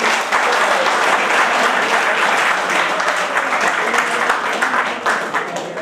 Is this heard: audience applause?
yes